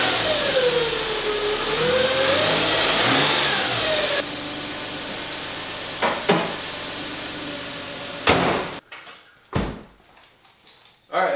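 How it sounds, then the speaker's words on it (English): A Nissan engine whines as it is revved, the tone rising and falling for several seconds. It is followed by idling, a few clunks and clatters, and a sharp bang near the end. "Nissans have a pretty funny whine. They whine when you rev them"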